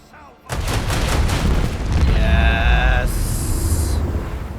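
A ship's weapon salvo erupts in Warhammer 40K Rogue Trader as a sudden, loud barrage of heavy booms and crackling blasts that rolls on in a dense, sustained roar for several seconds.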